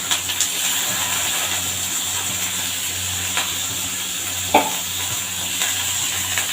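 Vegetables frying slowly in a pan on a home stove, a constant close sizzle and hiss with a few light stirring knocks and scrapes, no talk over it.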